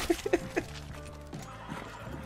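A horse neighs in the Red Dead Online video game, a few sharp, close whinny bursts at the start that trail off into quieter game sounds.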